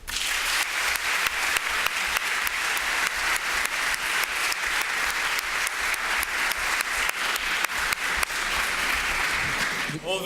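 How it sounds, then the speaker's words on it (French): Vigorous audience applause fills a hall after a speech at a mock-trial debate, with rapid, tightly packed claps forming a loud, continuous wash for about ten seconds. "s'il vous plaît, applaudissez-le"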